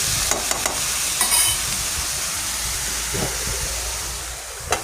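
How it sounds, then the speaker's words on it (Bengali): Gourd greens are stirred as they fry in a pan: a loud, close hiss and crackle with several quick scraping strokes near the start and a knock at the end. "শাকগুলো ঢেলে দিয়ে ভালোভাবে নেড়ে চেড়ে"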